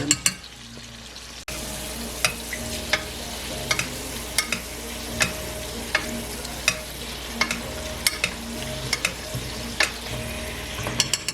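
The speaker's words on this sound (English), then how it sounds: "we are just toasting up some of those butter crackers to put on top." Butter crackers toast in a pan under a soft, steady sizzle, with regular scraping and tapping as they are stirred. The sound is fairly quiet and close, with no voices.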